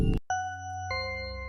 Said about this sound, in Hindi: 1:15 बजे वापस डोरबेल बजी।